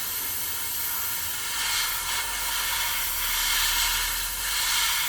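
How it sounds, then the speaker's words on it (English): Spray gun or aerosol laying a thin gloss coat on a 1/48 scale Hobby 2000 P-40N Warhawk model kit, a soft, steady hiss that swells in a few short passes, close and without talk. "we'll just give this a quick spray job"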